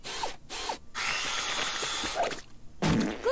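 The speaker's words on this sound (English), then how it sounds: "Drill!" A cartoon power drill whirs in short mechanical bursts with ratchet-like clicking, broken by brief gaps, loud and close, alone without talk.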